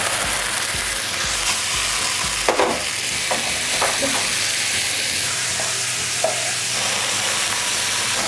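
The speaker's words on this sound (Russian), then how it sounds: "Сковородка нагрелась, добавляем говядину. Обжариваем до вот такой корочки, после чего добавляем лук." Beef and onion fry in a hot pan with vegetable oil for chashushuli, making a continuous, dense sizzle with occasional clinks and scrapes of stirring throughout.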